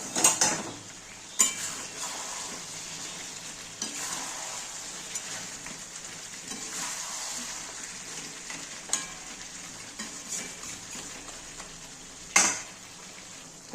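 Potatoes stirred into mutton curry in a pan, a soft sizzle with intermittent scrapes and knocks of a utensil against the pan, no talking.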